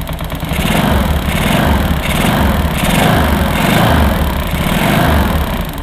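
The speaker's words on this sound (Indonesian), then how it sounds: "Kita gas sedikit ya." A Suzuki Skydrive scooter engine is close and loud, revved gently in several rising and falling surges over a continuous buzzing idle, with no talk.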